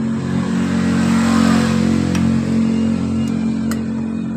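A Yamaha Mio GT scooter engine that is weak at mid rpm revs steadily and close by, holding a loud, even droning hum with faint clicks toward the end.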